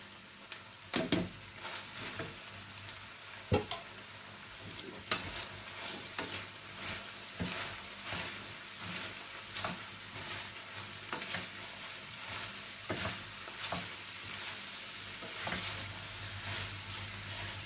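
Mushrooms, about 250 grams diced into cubes, sizzle steadily in a hot pan while a utensil stirs and scrapes them, giving irregular knocks and clatters over the continuous frying hiss.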